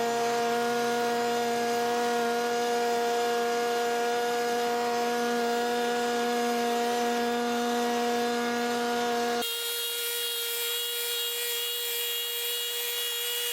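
A leaf blower clears snow off a driveway with a steady, droning whine that holds unbroken near the mic, then shifts to a thinner, brighter tone for the last few seconds; no voices.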